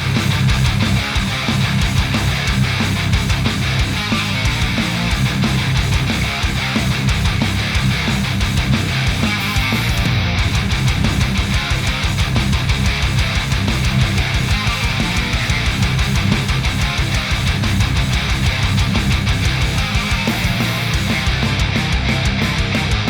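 Heavy distorted PRS SC245 electric guitar in drop C chugging through tight riffs via an AIRIS Venomous preamp, loud and continuous without any voice.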